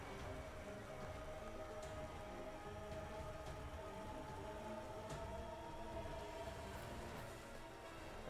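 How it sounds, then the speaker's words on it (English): Rain from the Rain Dance move in a Pokemon Battle Stadium Doubles video game match, a steady, even hiss of falling rain that runs unbroken for the whole stretch with no voices. "We make it rain."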